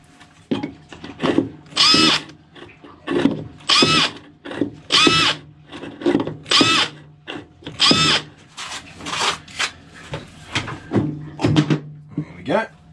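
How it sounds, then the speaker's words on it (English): A small 2mm bit drilling a series of holes through a thick timber boat dash, heard as repeated short bursts of power-drill whine with brief pauses between each hole, close and fairly loud. "I'm just going to go around with a little 2mm drill bit, drill a few holes around it"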